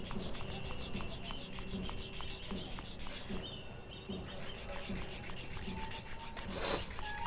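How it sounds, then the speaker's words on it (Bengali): White sandalwood rubbed steadily on a stone, a soft continuous rasping scrape with faint rhythmic strokes, close and quiet, with a brief brighter scratch near the end. "ঘষছি অনেকক্ষণ ধরে"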